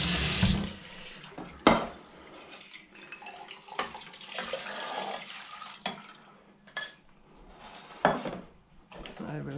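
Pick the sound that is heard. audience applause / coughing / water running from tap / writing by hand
water running from tap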